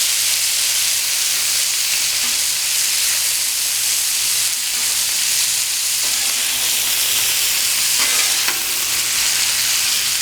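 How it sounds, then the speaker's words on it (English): Marinated steak for fajitas sizzling on a hot Blackstone flat-top griddle, a loud, steady, close frying hiss filling the whole stretch with small crackles and pops, no talk. "Just got a great sear instantly upon hitting that griddle top."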